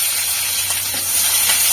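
Onions frying in a pan give a steady soft hiss with faint crackles throughout, with no talk over it.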